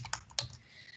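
A computer keyboard clatters with a few quick close keystrokes, sharp and distinct, then stops.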